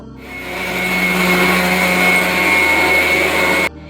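A washing machine running a full load of clothes gives a steady, loud mechanical hum and whir with a constant tonal drone, starting and stopping abruptly.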